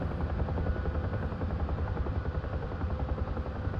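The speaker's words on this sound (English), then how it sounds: "Which this is the most dangerous part about being a helicopter pilot, is the coming in for a landing." A Huey helicopter in the DCS Vietnam flight game coming in to land, its rotor a loud, dense, continuous thumping drone close up that fills the whole moment with no voices.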